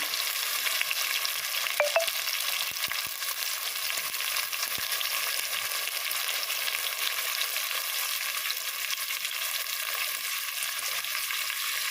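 Green chillies and mint leaves sauté in hot oil for biryani, making a continuous bright sizzle close by, with a few soft ladle taps near the start and no voices.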